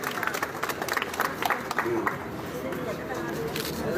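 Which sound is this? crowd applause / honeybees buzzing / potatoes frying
crowd applause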